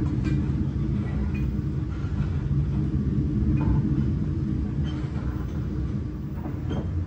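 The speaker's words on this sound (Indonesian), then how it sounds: "waktu ketika lewat sambungan rel mungkin, itu ada suara dak, dak, dak." Dharmawangsa economy-class train running on the Jakarta–Surabaya line, with a steady loud rumble of wheels and carriage throughout and a few faint clicks from rail joints, no talk.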